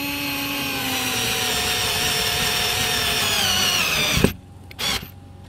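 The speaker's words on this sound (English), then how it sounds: "So I just take the screw, hopefully find the hole I have here somewhere, and get it started, and then take my tool" A cordless power tool drives a screw into a Fan-Tastic Vent Ultra Breeze cover on a 2022 Tiffin RV roof, a loud, steady motor whine for about four seconds that stops abruptly, followed by a short second burst.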